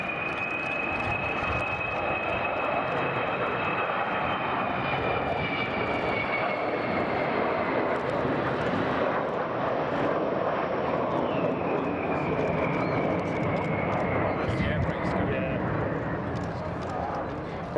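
The Avro Vulcan XH558 bomber roars through a flying display at Bournemouth, its loud continuous jet noise steady throughout, with a rising and falling engine whine, under a commentator's voice over a public address.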